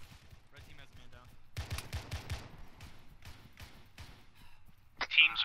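Gunfire rings out in a military simulation game during a team field training exercise. Loud bursts of shots and volleys come in clusters, with a sharp crack near the end and muffled voices in between.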